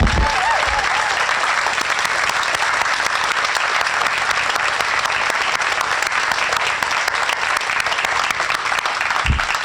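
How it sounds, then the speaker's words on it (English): Audience applause at the Como Harbor grand opening, a steady, dense clapping that carries on loud and unbroken for the whole stretch, with no voices over it. "give them the biggest round of applause you possibly can"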